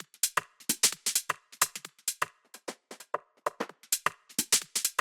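Tech house percussion loop run through an amp effect, giving the quick, clicky hits a bright, fizzy edge much like hi-hats, in a steady syncopated pattern heard alone.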